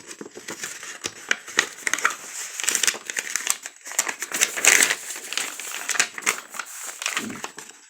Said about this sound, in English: So they would open up this envelope.